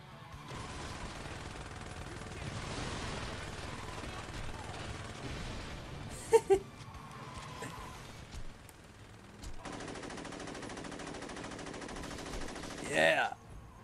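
Automatic gunfire in the video game Saints Row 2 during an online match, sustained bursts through most of the stretch with a couple of sharper spikes, under excited talking from players.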